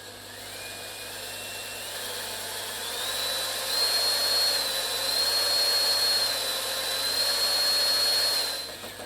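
A drill fitted with a mixer whirs continuously while stirring epoxy resin with hardener, a steady loud whine that rises slightly in pitch partway through and then winds down at the end.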